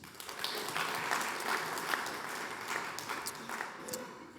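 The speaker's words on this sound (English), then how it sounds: "Please, a warm round of applause for Shorya." An audience at a software engineering talk gives a presenter a warm round of applause, even and sustained clapping that carries on throughout, moderately distant and free of speech.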